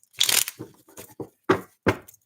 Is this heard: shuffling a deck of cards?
yes